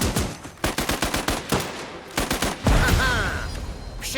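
Rapid machine gun fire in the winter Siberia survival game Last Train Home: a close, loud string of evenly spaced bursts, then a denser stretch of gunfire and rumbling battle noise.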